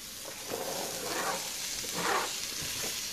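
Peppers and garlic, with olives, sizzle steadily in a pan, a soft continuous frying hiss with gentle swells as the vegetables are stirred.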